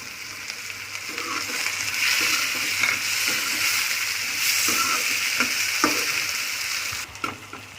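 Tomatoes frying and sizzling with browned onions in a pan for baingan bharta, a steady close hiss broken by a few stirring scrapes, no voices.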